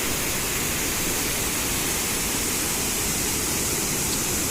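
Waterfall in a forest near Butwal, Nepal, roars as a steady, loud, broadband rush of falling water that fills the whole clip with no breaks and no voices.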